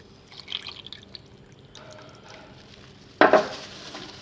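Tamarind paste poured over washed chicken in a kitchen: faint wet drips and soft handling sounds, then a sudden louder splashing pour near the end, close by.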